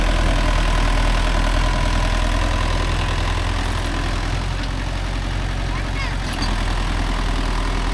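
A Mahindra Yuvo Tech Plus 585 DI 4WD tractor engine runs steadily while pulling a five-tine cultivator through a field, a loud continuous drone with a knocking diesel texture and no break.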